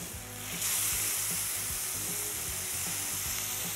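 A burger patty sizzles loudly on a 17-inch Blackstone propane griddle, a steady close crackling hiss that swells after a softer start and holds for several seconds with no talking.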